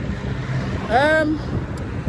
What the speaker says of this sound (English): it's just so windy and I'm walking against the wind